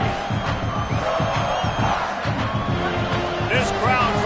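Stadium crowd roars continuously at a South Carolina away game in a college football video game, a loud dense wash of cheering and chanting under a play-by-play commentator's voice.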